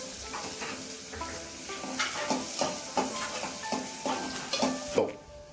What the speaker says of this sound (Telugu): కొంచెం ఉల్లిగడ్డ వేగని